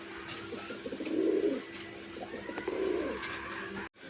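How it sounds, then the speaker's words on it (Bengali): Jade Spring pigeons cooing in a shop or loft, two soft, low rolling coos about a second apart over quiet background, then a brief knock at the end, no talk. "2টাই কিন্তু জেড স্প্রিং কবুতর"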